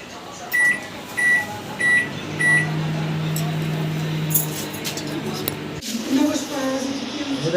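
A microwave oven gives several short, evenly spaced beeps, then hums steadily while running before a click and clatter as it stops. Someone talks over much of it.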